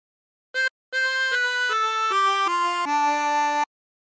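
A chromatic harmonica plays a short melodic phrase from a song, clear and close, with one brief opening note followed by a run of steady sustained notes stepping downward, alone with no talking.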